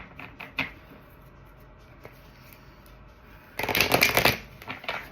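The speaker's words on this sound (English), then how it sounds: "Let me shuffle this deck" A deck of cards is shuffled with a quick riffle near the end, a dense ruffling flutter about a second long, preceded by quieter taps and handling in a quiet room.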